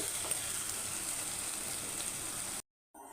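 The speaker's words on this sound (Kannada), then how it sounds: "ಇವತ್ತು ಹಸಿ ವಾಸನೆಗೆ ಹೋಗೋ ತನಕ ಸ್ವಲ್ಪ ಇದನ್ನು ಕೂಡ ಎಣ್ಣೆಲಿ ಫ್ರೈ ಮಾಡ್ಕೊಳ್ಬೇಕು." Green chilli frying in oil in a pan, a steady fine crackling sizzle at moderate level that cuts off abruptly near the end.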